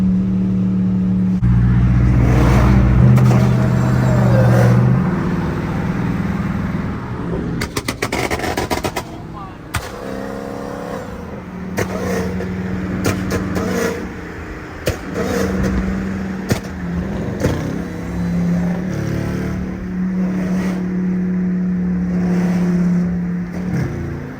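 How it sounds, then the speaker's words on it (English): Dodge Charger R/T engine running straight-piped with no mufflers, driving in track mode on a cold day: a loud, continuous exhaust drone that rises and falls with throttle, revving up and settling, while people talk over it. "I'm trying hard to keep the window down so I can get a better sound of the engine"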